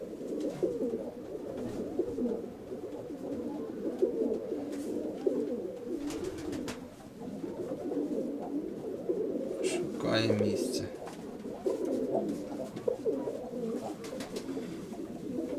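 Pigeons released from a loft coo in low, rolling, repeated calls that run almost continuously at moderate volume, with someone talking over them at times.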